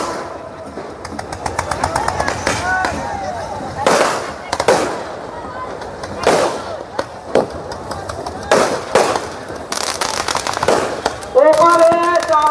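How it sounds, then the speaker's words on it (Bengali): Fireworks are set off across the water at the Bera festival in Lalbagh, with loud cracking bursts and sharp pops coming in repeated clusters, with voices in the crowd around them. "আপনারা ওপার থেকে এবার বাজিগুলো ছাড়ুন"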